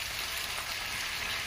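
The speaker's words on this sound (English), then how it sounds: "Beef is now starting to caramelize." Beef short ribs searing and caramelizing in a hot pan, a continuous, even sizzle with a bright crackling hiss, close and steady throughout with no voices.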